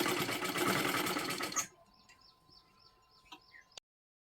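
A sewing machine stitching piping onto a blouse runs in a steady, dense whir for about a second and a half, then stops, leaving only faint small clicks and a soft hum.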